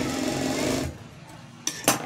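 A sewing machine runs steadily up close, joining the front pieces of a plain blouse, then stops, leaving faint handling clicks and a couple of short knocks.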